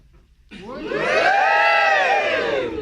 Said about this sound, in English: burlesque works better if you're like whooping and cheering and getting involved